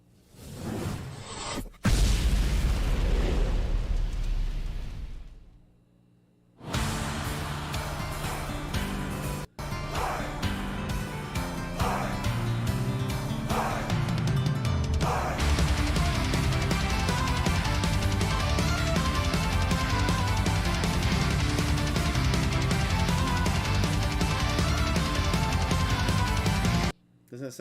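A metal guitar riff plays loud and dense, with a distorted, driving sound that runs almost continuously for nearly half a minute after a short break near the start.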